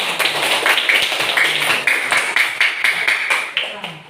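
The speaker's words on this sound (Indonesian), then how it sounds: "kita tepuk tangan buat Nova" Fifth-grade pupils in an elementary school classroom clap for a classmate, giving a quick, fairly steady run of sharp claps up close, with children's voices mixed in.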